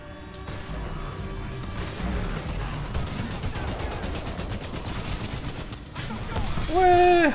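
Heavy gunfire from a first-person shooter, Titanfall 2, with a loud close shotgun blast among sustained rapid bursts and crashes. A tonal chirp rises near the end.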